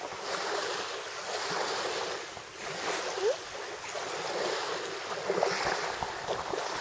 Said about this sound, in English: a little bit of chop on the water.